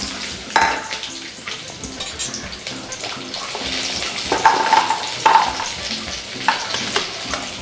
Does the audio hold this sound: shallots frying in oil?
yes